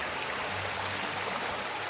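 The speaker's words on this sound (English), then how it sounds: "we are refilling water bottles at the stream." A woodland stream beside a hiking trail, flowing with a steady, close, even rush and trickle of water, with no voices.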